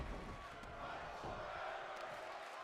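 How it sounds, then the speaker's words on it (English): A wrestling crowd chants steadily in an arena, a faint, continuous wash of many voices with no distinct breaks. "Crowd really enjoying the fight, telling them to fight forever"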